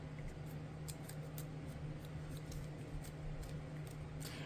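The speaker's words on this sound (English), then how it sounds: "I'm going to trim this one too because I got it over a little more on the other side" Scissors trimming paper for a junk journal postcard give a quick run of faint, close snipping clicks in an irregular rhythm over a low steady hum, with no talk.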